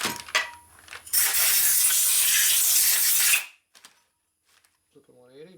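Compressed air blasts a motorcycle transmission part from a 1961 Harley-Davidson Sportster XLCH during a rebuild, a loud close steady hiss lasting about two seconds after a short burst, then a voice speaks briefly.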